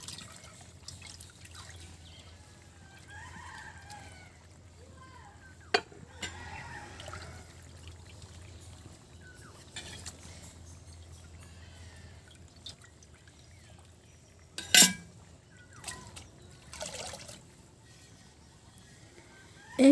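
Dishes are washed by hand with faint trickling and dripping water, punctuated by a few sharp clinks and splashes, all quiet and close against a calm indoor background.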